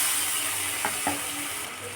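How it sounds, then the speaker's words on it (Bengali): Ginger garlic paste sizzling loudly with fried onions in a pan, a steady dense hiss throughout, broken by two brief clinks of a utensil near the middle. "এবার আমি আদা রসুনের পেস্টটা দিয়ে দেব"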